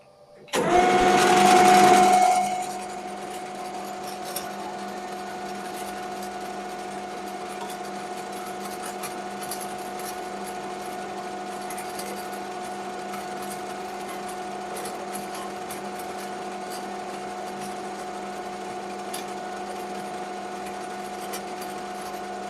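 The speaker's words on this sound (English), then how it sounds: "Okay, so onto the lathe and make one of these." A metal lathe turns a small metal part for a sports car's lever mechanism, a loud burst of cutting at the start giving way to a steady, humming motor whine with stable tonal lines that runs on alone.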